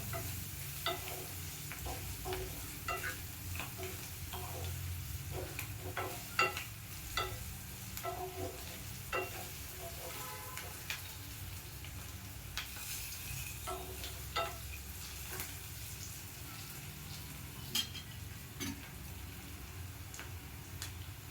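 Onions stirred and frying in oil for a Gujarati okra curry, a steady close sizzle broken by frequent ticks and scrapes of a spoon against the pan, continuing without speech.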